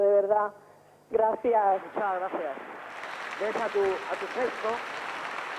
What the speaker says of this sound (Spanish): cómo aplauden todos los falleros